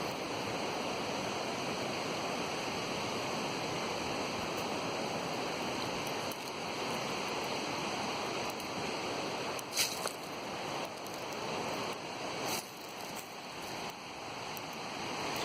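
Creek water flows in a steady, broad rushing wash, close and continuous, with a few faint knocks and rustles over the top.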